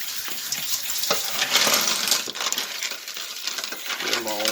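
Tumbled rocks, including agate, petrified wood, glass and quartz, are swished and rattled in a bowl of running water indoors, a continuous close clatter of stones and splashing with brief clicks, and a voice briefly joins near the end.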